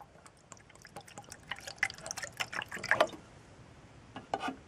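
Alcohol fuel trickles and drips into a small Trangia camping stove burner, a faint uneven splashing of liquid lasting a few seconds, close by and with no talking.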